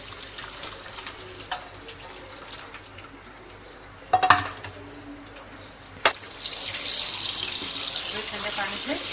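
Cold tap water runs into a sink to rinse boiled lasagna sheets, a few clinks and splashes first, then a steady rushing stream of water for the last few seconds.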